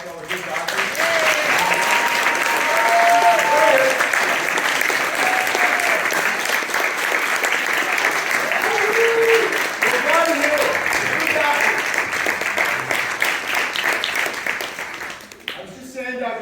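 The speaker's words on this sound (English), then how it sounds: "Can we give a round of applause to all the good doctors?" A health conference audience gives long, steady applause for the doctors, dense clapping from a large crowd, with voices calling out over it before it thins near the end.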